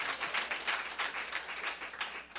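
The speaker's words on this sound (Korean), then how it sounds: "사랑하는 여러분, 우리 주님께 박수." Warm applause from a sizable church congregation at a Friday night service, continuous clapping with slight swells, heard alone without voices.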